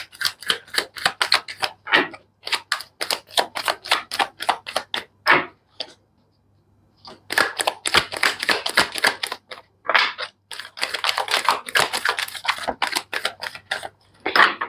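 Tarot cards are shuffled in rapid, crisp riffling bursts close by, several runs of quick flicking separated by brief pauses, with no talking.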